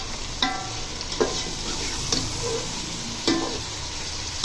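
Tomatoes, green chillies and chopped garlic sauté in a pan with ginger-garlic paste for a black chickpea pulao, giving a steady close sizzle broken by a few sharp stirring clicks.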